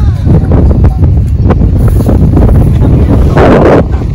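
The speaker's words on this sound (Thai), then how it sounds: "ลมแรงมากเลยครับ" Very strong wind batters a campsite at Khao Kho in the rainy season, loud and constant across the whole stretch with gusty surges, a brief voice fragment heard under the roar.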